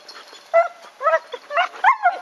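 A dog gives a string of high, whiny yips and short barks, close by, in irregular bursts over a couple of seconds.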